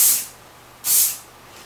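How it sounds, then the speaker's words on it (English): Hairspray from an aerosol can sprayed onto hair in two short bursts, each a bright, close hiss lasting about a quarter second, separated by a brief pause. "Then spray a little hairspray. Spray the ends and kind of smooth them out"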